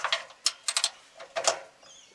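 Ratchet wrench backing out bolts during a bash plate install, several quick close clicking bursts in an uneven rhythm with short pauses between them.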